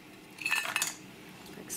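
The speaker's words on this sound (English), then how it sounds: "And now I'll be adding in my meatballs." Meatballs dropped into a soup pot for a creamy asparagus soup, a couple of quick metallic clinks and knocks against the pot, quiet and close.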